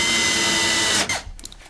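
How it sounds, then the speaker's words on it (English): A power drill whines steadily while pre-drilling a pine frame, close and loud, then spins down and stops about a second in, leaving faint clicks and handling noise. "We pre-drill and countersink all the frame material and then assemble using chipboard screws"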